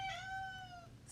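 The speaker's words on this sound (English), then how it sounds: "Excuse my cat in the background." House cat meowing in the background, one drawn-out, falling meow lasting about a second, moderately faint and clear, with no talking over it.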